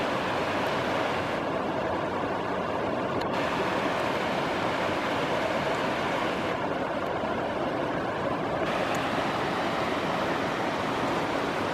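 Water flowing and rushing beside a mountain trail near Lac d'Arsine in the Alps, a steady broadband wash that continues without a break and sounds close, with no talking.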